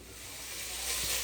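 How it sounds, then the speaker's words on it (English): Ground beef cooks in a pan with a soft, continuous hiss and sizzle. The sound is brief and fairly quiet, swelling slightly as it goes. "So I'm going to start out by cooking my beef."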